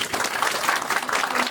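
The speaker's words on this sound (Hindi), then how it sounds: "एक बार जोरदार तालियों के साथ में इनका स्वागत करें।" An audience applauds to welcome marchers arriving at a tribal rights march event, a dense wash of many hands clapping at moderate loudness throughout the short burst.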